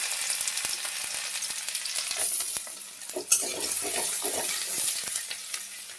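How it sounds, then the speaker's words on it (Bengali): Chopped onion sizzling and frying in hot oil in a wok, ahead of a crab claw curry; a steady close crackle with a brief louder burst midway and no talk. "কড়াইতে তেল গরম করতে দিয়েছি, পেঁয়াজ কুচি দিয়ে দিলাম"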